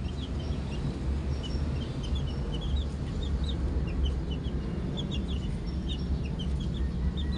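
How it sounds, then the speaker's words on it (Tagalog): Several domestic chickens cluck softly in short, scattered bursts over a low, steady background hum, fairly close by. "Yun ang aking mga alagang manok."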